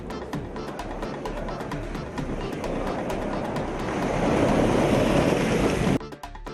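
Sea waves crash onto erosion-control boulders piled along a beach, surging three to four feet high; a steady, loud broadband roar of surf and spray swells toward the end, then drops off abruptly.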